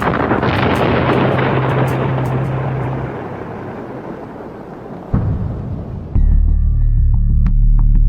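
A rocket engine fires after a launch countdown: a loud, broad roar and throb that holds steady, dips briefly, then surges into a heavier, deeper rumble near the end, with no voices.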